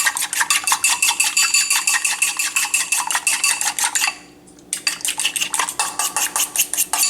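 An egg being beaten into cornmeal in a dish with a utensil, a fast, steady clicking rhythm of metal against the dish, close and loud, pausing briefly midway before resuming.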